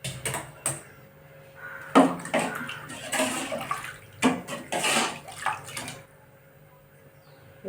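Running water splashes in irregular bursts as coriander is rinsed under a tap, with quieter pauses between.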